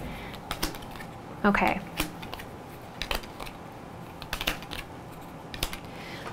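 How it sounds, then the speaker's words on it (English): Crisp, scattered clicks and taps of tarot cards being handled and laid down, with one short rustling shuffle burst near the start and a brief spoken word. "I'm taking too long with the card laying down here, shuffling."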